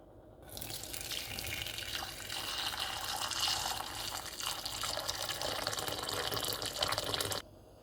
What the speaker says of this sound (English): I'm going to put them in a pot and put some water over it